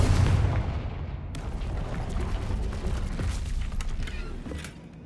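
A Confringo blasting spell explodes in the video game Hogwarts Legacy: a loud, close burst at the start that rolls into a rumbling, crackling aftermath which slowly fades.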